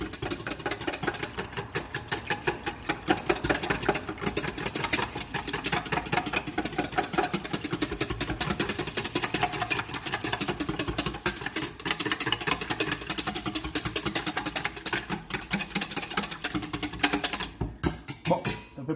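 An electric mixer whips a liquid egg tart filling in a bowl, a continuous close buzzing motor whir with rapid rhythmic pulsing that runs on without pause and stops near the end.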